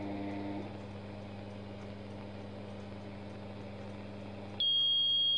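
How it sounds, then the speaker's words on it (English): A tactical dosimeter's radiation alarm cuts in near the end with a loud, steady high-pitched electronic tone, following several seconds of low humming from nearby x-ray equipment. "The alarm will go off at 15 millisieverts."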